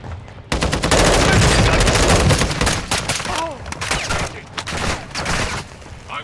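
Heavy gunfire in a shooter video game: dense, loud bursts of automatic fire rattle almost continuously from close by, easing slightly toward the end, with faint voices underneath.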